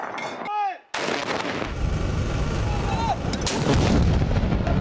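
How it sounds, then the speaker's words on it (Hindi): Booming artillery rounds fired in a 21-gun ceremonial salute at Gilgit, loud and continuous with rolling echoes, preceded by a few faint chirping tones. "गिलगित में दिन का आगाज 21 तोपों की सलामी से किया गया।"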